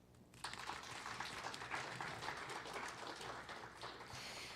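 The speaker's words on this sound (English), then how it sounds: "A round of applause for their outstanding" Steady applause from a business audience at a CXO 2.0 executive conference in Las Vegas, breaking out after a brief quiet start and holding as a dense, even wash of many hands until the end.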